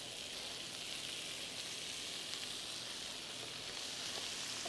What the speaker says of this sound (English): I'm gonna add the broccoli in and cook it still for another couple of minutes